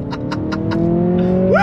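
A 2023 Acura Integra pulls hard in first gear under full throttle, its engine note climbing steadily and close, with a quick upward sweep at the end as revs rise.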